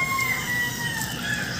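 Chickens on a farm cluck and crow in a short burst, a steady layer of fowl calls with a sustained crow-like tone running through, moderately loud and with no talk.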